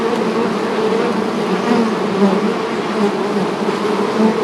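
Honeybee colonies buzz in a dense, steady, close-up drone during the summer dearth, with no talk over it.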